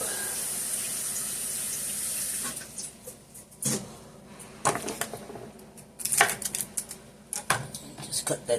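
Water runs steadily from a kitchen sink tap, then gives way to splashing, clattering rinsing of broccoli with irregular bursts of handling noise.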